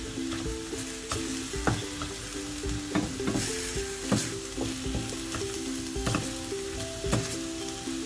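Garlic fries in a pan with a soft, steady sizzle and crackle, broken by repeated scraping clicks of stirring, close by and with no voices.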